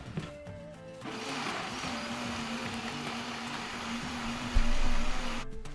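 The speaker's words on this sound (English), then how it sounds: "He blends together chipotle peppers and fresh onions, boiled guajillo peppers, and garlic" Small blender pureeing chipotle peppers, fresh onions, boiled guajillo peppers and garlic, a steady motor whine that starts after a brief pause and runs continuously, loud and close with no talk.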